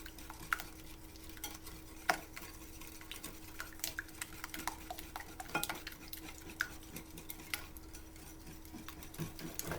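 Chocolate cake batter being whisked by hand in a bowl while oil or milk is drizzled in, a steady, quiet rhythmic ticking and scraping of the whisk against the bowl with no voices.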